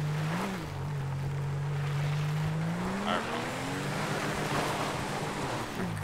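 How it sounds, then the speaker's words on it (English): A Crown Vic in the video game GTA 5 revs its engine as it climbs a hill, a loud sustained drone that rises in pitch partway through, with a low rumble running steadily underneath. "We had to give the Crown Vic some gas to get up there."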